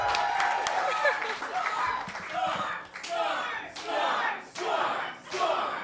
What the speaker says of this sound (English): The crowd in Ann Arbor loves our divine champion, Garcon.